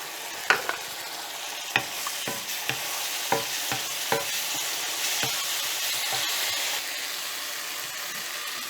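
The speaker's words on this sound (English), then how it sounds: "lower the flame and let it fry" Brinjal and prawn curry with tomato fries in a pan over a low flame, a steady close sizzle broken by about a dozen sharp scraping stirs that fade out near the end.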